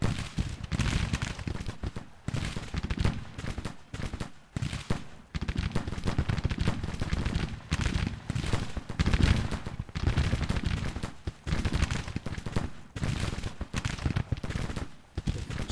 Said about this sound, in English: Always tricky trying to fall back in the face of enemy fire.